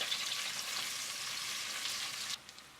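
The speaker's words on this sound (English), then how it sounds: "add the onions to the pot and fry them for 2 to 3 minutes" Onions fry in a pot for a venison goulash, giving a steady close hiss that holds evenly and then drops off abruptly near the end, with no voices.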